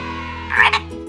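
A frog croaks briefly, a short, close burst standing out over a steady humming tone.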